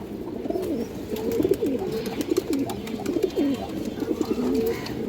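A new adult pair of Mukhshi-dom pigeons coo nearby in repeated, clear rolling calls over a soft background hum. The cooing carries on steadily throughout, with no talking over it.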